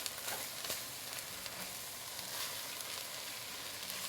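Steady sizzling from a pot of applewood smoked beef brisket chili as cayenne pepper, brown sugar and cinnamon are stirred in, a constant close frying hiss with faint scraping, no voices.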